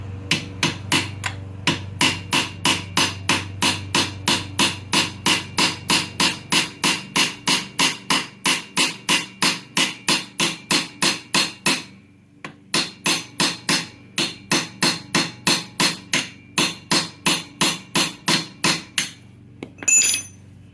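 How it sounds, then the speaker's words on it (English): A hammer drives a chisel at a weld on a 1997 Vespa P200E scooter, delivering dozens of sharp, evenly paced metallic strikes up close, with one brief pause midway. "I'm gonna take a chisel. There's a weld right here. I'm gonna use the weld to chisel up."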